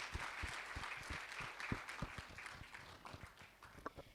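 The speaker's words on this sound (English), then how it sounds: "Let's give a big round of applause for Yasmin." Audience applause for fitness trainer Yasmin Karachiwala, faint background clapping with distinct low thumps at a steady pace, heard quietly.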